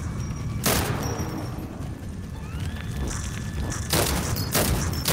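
Loud game gunshots in the VR title Epic Rollercoasters crack out as a few separate sharp blasts over a busy, rumbling ride soundtrack, with rising electronic tones in between.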